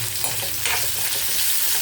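Onions sauté in a pan for Salem mango gravy, giving a brief, loud and continuous sizzle with light stirring.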